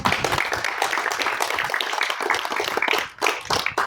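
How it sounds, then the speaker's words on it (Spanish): Trainees close a Caterpillar backhoe maintenance and operation training session with a short round of applause, many hands clapping unevenly in a fairly close, modest-sized group. "un aplauso para cerrar"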